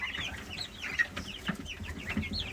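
Chickens, including a silkie, cluck and chatter close by in a backyard flock, a run of overlapping short calls and soft warbling notes at moderate volume.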